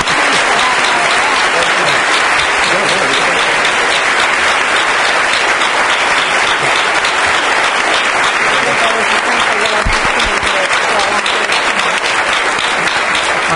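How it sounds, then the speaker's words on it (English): Loud, sustained applause from a large audience at a Georgetown Law School event, dense clapping filling the whole stretch without a break. "Let's give everybody a round of applause."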